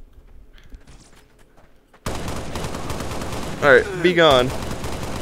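A Halo assault rifle fires in the Blade & Sorcery VR game, a sustained loud burst of rapid automatic shots following a quieter stretch, with a brief spoken line near the start.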